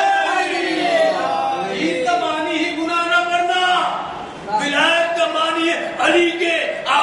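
A large crowd at a religious gathering celebrating Eid e Ghadeer chants slogans in loud, rhythmic unison, the voices rising and falling in repeated waves close by.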